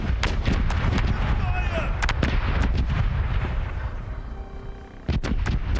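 Ship cannons in the naval video game Corsairs Legacy fire in a rapid series of loud booming shots over a rumbling battle background, with a brief lull before more blasts near the end.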